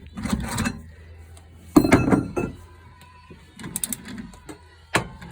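A rear wheel bearing on an e36 M3 is pressed out with hardware store tools, giving a few separated bursts of creaking, grinding and clunking mechanical noise, close and moderately loud, with short clinks between them.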